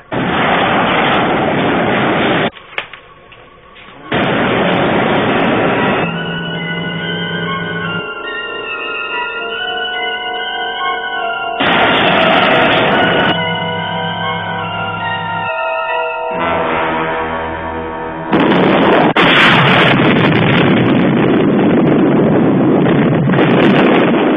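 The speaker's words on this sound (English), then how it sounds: "They destroyed the Delphin gunship. Direct hit." A missile strikes and destroys a gunship in the 1970s sci-fi TV series Space: 1999, heard as long roaring, wind-like explosion blasts broken by stretches of warbling electronic tones. The sound is loud and muffled, with no high end.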